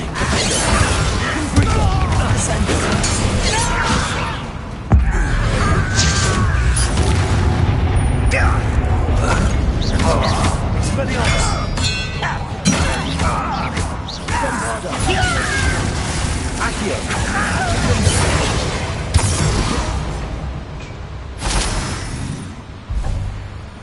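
Bombarda explosion spells cast in Hogwarts Legacy on PS5, loud booming blasts and crashing impacts in a dense, continuous stream of battle noise with spoken voices mixed in throughout.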